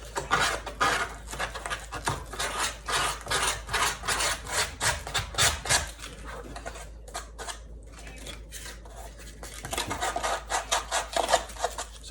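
Sandpaper rubbed over the side of a foam core shoe to smooth it: quick, rhythmic scratchy strokes in bursts, a short pause midway, then more rapid rubbing, close and fairly quiet.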